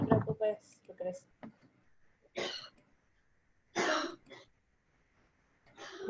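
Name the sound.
throat clearing and coughing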